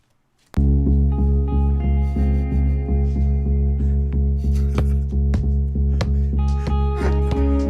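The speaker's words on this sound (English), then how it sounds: "That's my foot just thumping around." A foot thumps low and regular, keeping time under a sustained musical song demo, steady beats sounding close by throughout.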